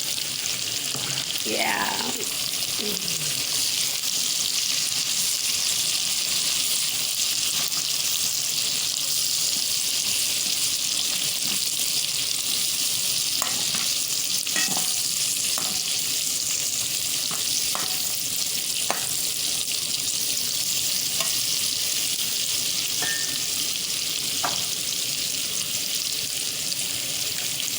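Green and red peppers and carrots sizzle steadily in a hot pan, a constant bright crackle with occasional stirring scrapes and clinks, and a person speaks a single brief word.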